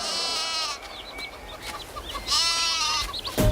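A goat bleats a few times nearby in a wavering, nasal cry, with faint background sound and no speech.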